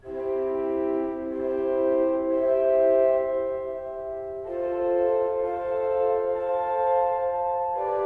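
The hand part of a three-chord improvisation sounds as sustained mid-range chords, changing a few times, held and ringing steadily at moderate loudness over several seconds.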